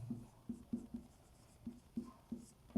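A pen writes notes on paper, making soft, close scratchy strokes in an uneven rhythm of short taps and scribbles, quiet and without speech.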